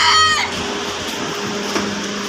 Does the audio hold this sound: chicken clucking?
yes